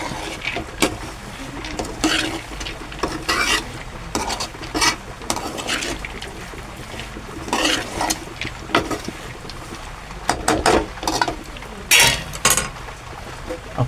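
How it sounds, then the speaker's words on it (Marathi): A pot of whole masoor lentil curry with onion masala is stirred, giving repeated close scrapes and clinks of a spoon against the pot over a low background, with no one talking. "भाजीला एकत्र करून घेऊ मस्तपैकी."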